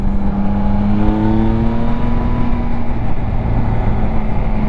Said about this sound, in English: The best bike for me, under the 15 grand mark, is this. The Yamaha Tracer 9 GT Plus.